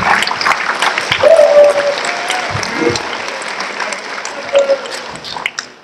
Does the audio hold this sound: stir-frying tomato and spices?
no